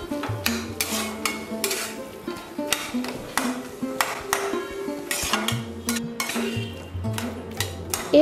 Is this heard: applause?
no